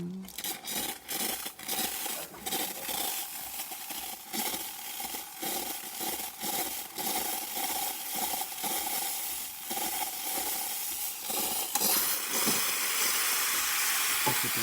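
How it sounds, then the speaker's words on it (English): A Starbucks espresso machine's steam wand hisses steadily after a full tune-up, a continuous close, loud rush of steam with crackling texture, while people talk over it throughout. "As you can see now, the machine is steaming perfectly fine."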